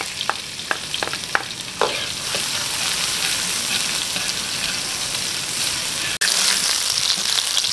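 Ginger, garlic and onion sautéing in hot sweet tea oil, with a steady sizzle throughout, a few sharp stirring clinks at the start and a brief jolt near the end.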